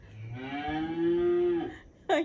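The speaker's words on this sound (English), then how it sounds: "A cow." A single cow moos in one long, drawn-out low call lasting over a second, fairly close and clear, followed by a brief higher sound at the end.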